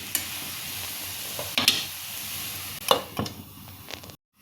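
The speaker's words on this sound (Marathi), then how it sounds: "ह्याला परत एक मिनिटभर आपल्याला परतून घ्यायचे" Tomato soup ingredients sauté in a pan, a soft continuous sizzle punctuated by a few sharp spatula scrapes against the pan, ending abruptly in silence.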